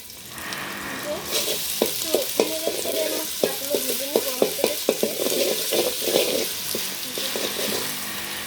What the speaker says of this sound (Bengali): লাল লাল করে একটু ভেজে নিব।